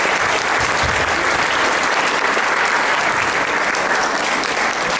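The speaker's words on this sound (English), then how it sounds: "Let's give them a big round of applause." Audience applause at a children's cultural programme in Gaborone, Botswana: steady, loud, sustained clapping from a large crowd filling the whole stretch.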